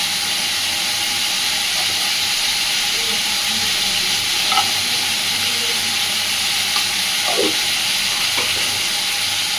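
Potatoes and spices frying in a pan give a loud, even hiss and sizzle, with a few spatula scrapes and clinks breaking through now and then.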